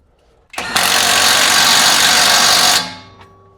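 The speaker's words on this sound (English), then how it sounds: "with tightening these lower mounts, we're going to use, again, Bauer 20 volt, 3/8 drive impact gun from Harbor Freight" A Bauer 20-volt cordless 3/8-inch drive impact gun from Harbor Freight tightens lower coil-over mounts on a Toyota Corolla or Matrix, a loud, close, continuous burst of about two seconds that winds down abruptly.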